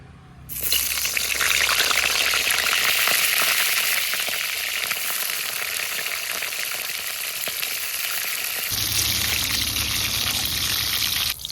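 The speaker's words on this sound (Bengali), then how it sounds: "অল্প অল্প করে ভেজে নিলাম, তাহলে ফুলকপিটা সুন্দর করে ভাজা হয়" Steady loud sizzling of cauliflower frying in hot white oil, a dense crackling hiss that runs continuously and shifts tone near the end.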